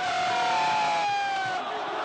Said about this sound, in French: Et face à la foule qui les acclame